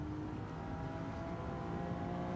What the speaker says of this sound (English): Starting to drive the car a bit harder now.